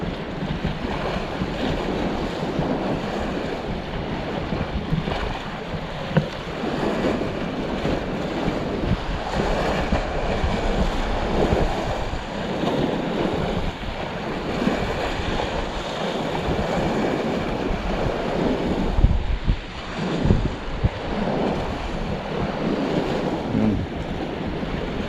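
Heavy ocean surf churns and crashes continuously on a fishing outing, layered with gusty wind buffeting the microphone; loud, rough and without any voices.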